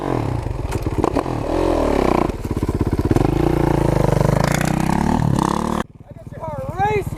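A Kawasaki KX500 two-stroke motorcycle runs flat out near top speed in fifth gear, its loud, steady engine roar dominating nearly the whole ride before dropping away abruptly near the end, followed by a quieter stretch with some whistling tones.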